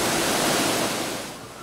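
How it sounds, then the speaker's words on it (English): Water gushes from a busted fire hydrant shooting into the air on an El Cajon street, a loud, dense, steady hiss and roar that fades slightly toward the end. "A busted fire hydrant sent water shooting into the air in El Cajon this morning."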